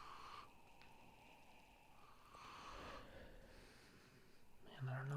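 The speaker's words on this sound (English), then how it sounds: "The sniffy sniff." Someone sniffs a freshly poured cup of specialty coffee, giving soft, quiet inhalations with a brief voice at the end.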